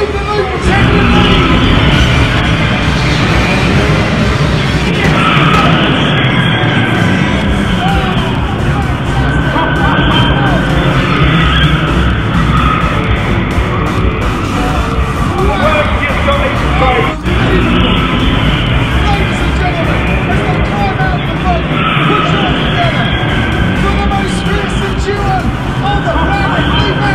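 A car looping the loop at a stunt show, heard as a steady roar of engine, crowd hubbub and loudspeaker commentary that stays dense and loud throughout, with no single vehicle standing out clearly.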